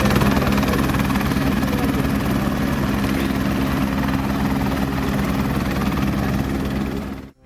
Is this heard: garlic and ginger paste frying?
no